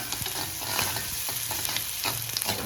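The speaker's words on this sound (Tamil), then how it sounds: "இதை போட்டு நல்லா போய் கலக்கி கொடுத்தலாம்" Onions frying in a pan for paneer butter masala, stirred with a spoon: a continuous close sizzle broken by quick rhythmic scraping strokes, no talking.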